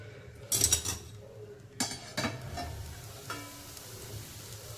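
A lid clanks down onto a pan of dry okra stir-fry: a few metallic knocks and clinks over a low, steady sizzle, close and fairly quiet.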